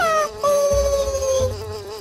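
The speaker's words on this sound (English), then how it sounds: "Where did all these talking flies come from?" Flies buzz in a video game, a loud, close, wavering drone with shifting pitch that fills the moment alone.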